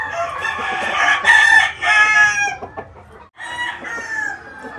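Clucking Cowan hens and a crested rooster crowing at close range, with loud overlapping calls and crows that break off briefly before resuming.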